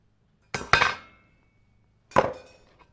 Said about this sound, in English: this last piece, I'll just take a tin snips